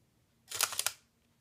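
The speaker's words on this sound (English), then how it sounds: "the shutter is really loud on this thing" Sony A7R mirrorless camera shutter firing once, a loud, close, sharp mechanical click-clack lasting under half a second, heard alone in a quiet room.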